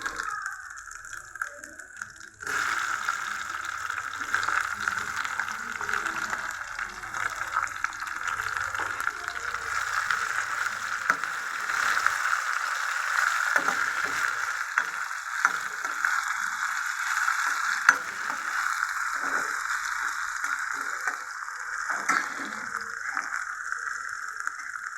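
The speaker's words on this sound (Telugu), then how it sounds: "టమాటాలు వేస్తాం." Tomatoes sizzling in a hot pan for an okra and brinjal curry, a steady close frying hiss that starts abruptly and continues loud and unbroken, with a few light clinks and scrapes over it.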